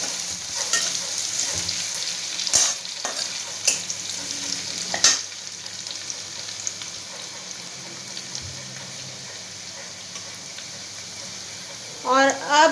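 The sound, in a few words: ginger and garlic frying for paneer paratha filling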